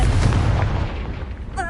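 A Confringo blasting spell explodes in Hogwarts Legacy, a loud, dense booming burst that fills the clip and ends with a short bright tonal ring.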